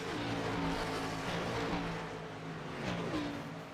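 A NASCAR Cup car engine in iRacing drones at Kansas Speedway, its harmonic whine rising and falling as it accelerates, steady and close with no talking.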